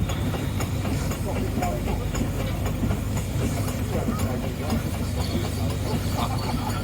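A coal-fired steam roller hauling a water cart rolls through the ring at a West of England steam engine rally, giving off a loud, continuous low rumble with steady hissing and mechanical clatter throughout.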